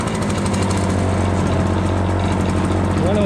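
A 79cc two-stroke gas backpack leaf blower runs steadily at close range, its loud engine drone constant throughout with a hint of rising whine near the end.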